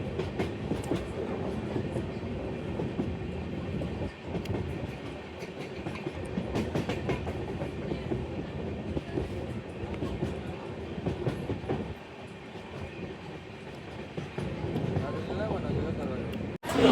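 A steady, close rumble and rattle of a moving passenger train carrying travellers overnight to Kolhapur, continuous throughout, with faint voices in the carriage.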